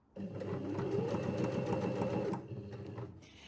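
A sewing machine stitches a shirt collar seam, joining a straight edge to a curved one. It runs in one close, steady whirring burst of rapid needle strokes, then stops and is followed by quieter handling.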